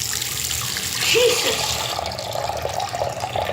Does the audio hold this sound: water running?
yes